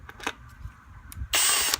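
A power drill fitted with a 5/16 socket extension spins against screws on a 2014 Ford Taurus engine, a loud buzzing whir bursting in near the end after a few faint clicks and knocks.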